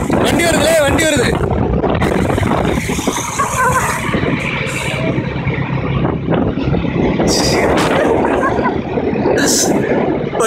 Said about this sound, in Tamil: வண்டி வருதுல்ல, வண்டி வருது.